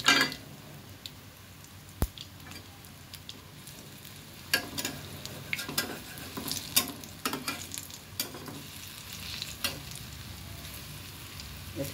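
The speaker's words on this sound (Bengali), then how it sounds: "আমি ছোটো কড়াই নিয়েছি এবং অল্প তেলে তৈরি করার চেষ্টা করছি" Banana fritters fry in a little oil in a small wok, giving a close, continuous sizzle scattered with sharp crackles and pops. No voices are heard.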